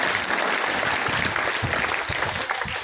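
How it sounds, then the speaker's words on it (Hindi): Audience applause honoring a school principal at a Guru Purnima event, steady crowd clapping filling the whole stretch with a dense, even texture and no voices on top. "एक बार तालियों द्वारा अभिनंदन करें हमारी"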